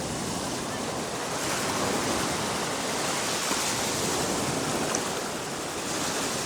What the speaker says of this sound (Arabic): ممكن اخد مثلا صوت البيئه المحيطه هنا، صوت الموج بالطريقه دي